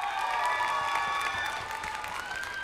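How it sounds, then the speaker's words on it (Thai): Audience applause and cheering fill the hall at the Miss Tiffany 2020 pageant coronation night, a steady dense wash of clapping with no talk over it. "ขอเสียงปรบมือได้อีกครั้งนึงครับ"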